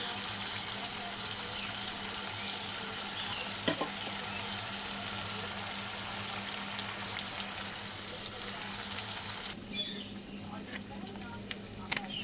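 Ground poppy seed and melon seed paste added to spiced masala frying in a pan for prawn malai curry, a steady soft sizzle with light stirring throughout, changing texture partway as the paste goes in.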